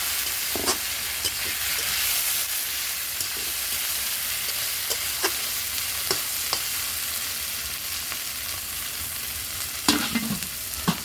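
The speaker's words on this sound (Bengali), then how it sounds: "মশলাগুলো ভালোভাবে কষানোর জন্য একটু জল দিয়ে নিচ্ছি।" Spiced masala for a Bengali crab curry sizzles and fries in a pan after a splash of water, steady hiss with scattered scraping stirs throughout, close and without talk.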